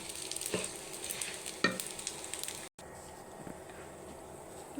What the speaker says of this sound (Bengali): চাউলগুলো পাঁচ মিনিট ধরে ভালো মতো ভেজে নিব